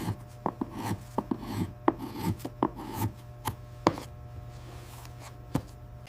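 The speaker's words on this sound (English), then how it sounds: "Edge sanding." The edge of a handmade shoe sole is sanded by hand, making quiet rasping strokes in an uneven rhythm, each one a short scratchy burst with soft knocks, close and faint, with no voices.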